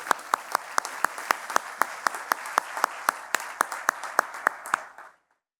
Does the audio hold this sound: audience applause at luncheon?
yes